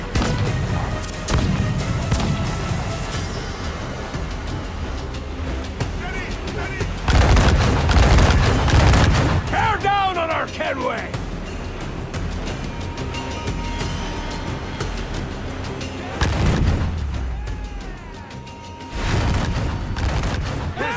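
Ship cannon fire during a naval battle in Assassin's Creed 4: Black Flag, heavy booming volleys and crashing impacts in loud bursts, with voices talking and shouting between and over the blasts.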